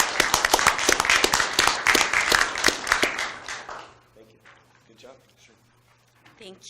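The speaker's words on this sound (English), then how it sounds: "And I would give a round of applause to that." Applause at a commission regular business meeting, dense clapping from the room for about four seconds, then fading out as people begin talking.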